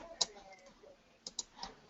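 A few scattered clicks on a computer keyboard while working in graphics editing software. The short, faint keystrokes sit over a quiet room background.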